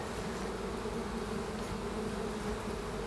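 Dense, steady buzzing of many honeybees close up inside a smoked hive, a continuous droning hum with no voices.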